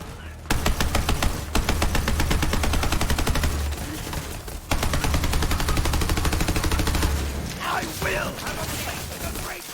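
Rapid sustained automatic gunfire from a weapon in Borderlands 3, loud and continuous for several seconds with a brief pause midway before resuming, then cutting off; a voice talks faintly underneath.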